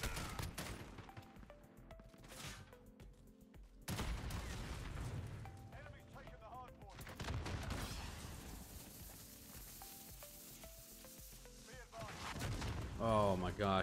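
Rockets and gunfire in Call of Duty Modern Warfare burst in dense, crashing volleys that swell and fade, with a voice talking over the combat.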